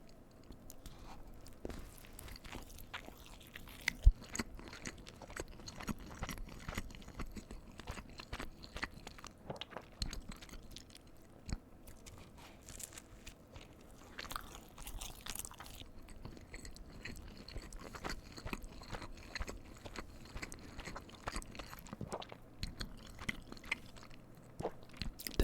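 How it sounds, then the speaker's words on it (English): Close-up chewing of a McDonald's double cheeseburger, soft wet bites and squishy mastication repeating steadily with occasional crunchier moments, quiet and intimate with no talking. "I think I want to start with the double cheeseburger, and then we'll just mix in the fries throughout."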